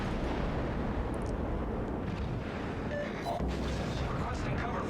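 World of Warships naval battle gameplay, a dense continuous rumble of booming gunfire and explosions, loud and steady with a few faint tonal blips above.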